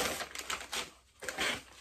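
Scissors cutting through the plastic packaging of a Weird Al Yankovic Poodle Hat cassette, a quick series of close, crisp snips and crinkling plastic, with no talking.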